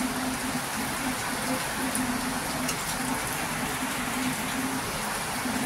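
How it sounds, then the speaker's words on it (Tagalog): Heavy rain pours down steadily at a roadside stop, a dense continuous hiss with a faint tonal hum running underneath, constant and unbroken throughout. "Lakas ng ulan eh."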